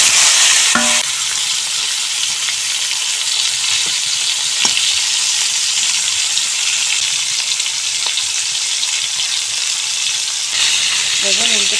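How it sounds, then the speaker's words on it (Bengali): Eggplant slices seasoned with salt and turmeric fry in hot oil in a wok, hissing in a loud, continuous sizzle with occasional clinks and stirring sounds. "এখন সবগুলি বেগুন ভেজে নেব।"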